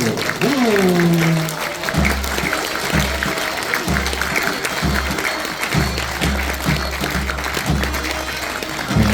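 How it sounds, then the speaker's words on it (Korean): Guests at a traditional Korean wedding ceremony clap in a steady, moderate patter as the bride and groom bow, with a voice and a sliding tone at the start and a pulsing low beat running underneath. "큰 박수, 뜨거운 박수로 축하해 주시기 바랍니다"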